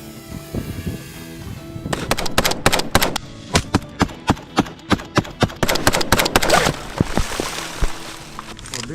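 Rifle gunfire during a simulated drone attack drill cracks out in a rapid series of loud, evenly spaced shots, preceded by a few scattered ones and followed by a quieter stretch.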